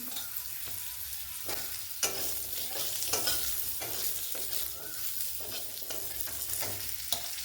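Potatoes sizzle in hot oil left from frying fish, tempered with dry red chilli and mustard seeds, with a steady close frying hiss broken by repeated scraping stirs of a spatula in the pan.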